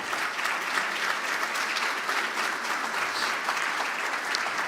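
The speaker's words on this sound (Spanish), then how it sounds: "Den un aplauso al Señor" A church congregation claps steadily during a worship service, with dense, even applause that holds for several seconds at moderate loudness in a reverberant room.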